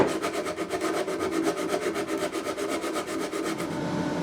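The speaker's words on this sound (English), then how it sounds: "and a lot of hand sanding." Steady rhythmic rasping strokes of sandpaper hand sanding a wooden guitar neck, quiet and close, repeating evenly back and forth.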